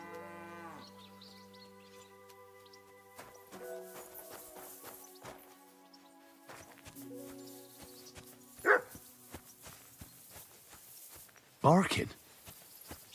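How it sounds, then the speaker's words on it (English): A dog barks in the video game Kingdom Come Deliverance II, giving two sharp, loud barks near the end over sustained music tones, with someone talking at points. "Barking."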